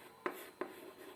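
Chalk or marker strokes on a board during a biology lecture, two short quiet scratches about a third of a second apart, faint and close.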